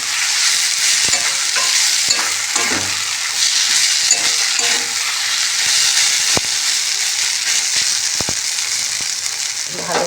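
Food in a pan with torn gondhoraj lemon leaves being stirred, a loud steady hissing sizzle with occasional sharp clinks of the utensil against the pan.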